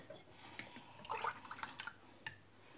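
Water poured onto a mix of corn flour and semolina gives a brief series of soft, close splashes and drips, quiet and alone.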